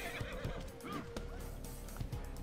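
A horse whinnies loudly and repeatedly in a video game battle, its shrill neighs rising over steady clip-clopping hooves and mounted combat noise.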